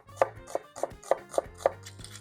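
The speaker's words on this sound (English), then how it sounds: "chopping onions. Around about 3 onions." Onions being chopped with a knife on a board, six or seven crisp, evenly spaced thuds at close range.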